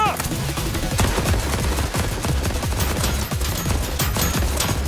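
Dense rapid gunfire from a Genshin Impact battle aimed at enemy shields, a loud continuous burst of shots with bass-heavy impacts filling the whole stretch, with game music or effects mixed in.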